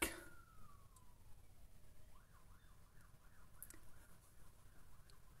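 A distant emergency siren wails faintly, its pitch sliding down then rising and falling in a repeated cycle over quiet background hiss.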